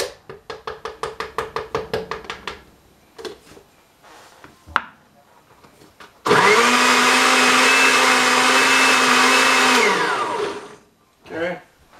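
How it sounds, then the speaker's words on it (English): A blender mixing a healthy smoothie runs loud and close for about four seconds, after a series of short rhythmic knocks and clatter of preparation, then briefly whirs again near the end. "Make sure everything gets all mixed well and blended well."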